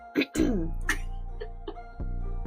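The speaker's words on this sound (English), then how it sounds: "let me clear my throat" A person clears their throat with a couple of rough, gravelly bursts, followed by a sustained low hum of voice and a brief throat noise near the end.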